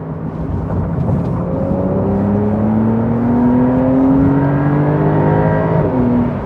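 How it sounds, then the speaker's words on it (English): A loud Porsche 911 engine revs and accelerates continuously on twisty roads, its rising whine climbing steadily in pitch with a deep rumble beneath. "And this engine, how nicely loud it is."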